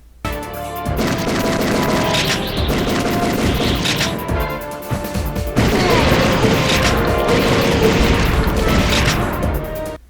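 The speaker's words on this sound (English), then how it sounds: "It can take literally over a dozen blasts to kill a zombie sometimes." Shotgun blasts from The House of the Dead 3 on PC fire in a loud, dense, continuous barrage against zombies, with crashing impacts and game effects layered throughout.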